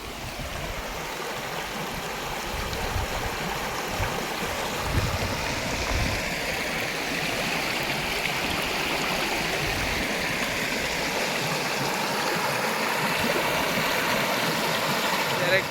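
Stream water rushes under a bridge in a steady, loud broadband flow that stays even and continuous throughout, with no clear break.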